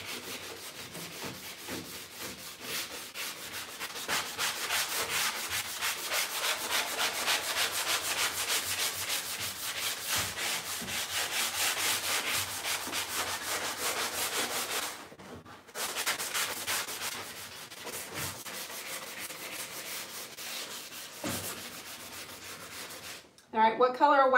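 A painted piece gets sanded by hand in steady rhythmic rubbing strokes, loud and close, with a short pause near the end and a brief burst of other noise at the very end.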